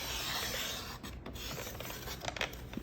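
A paper trimmer slices through a thin tag page, a quiet, close scraping rasp of the blade gliding along with a few soft clicks and no talking.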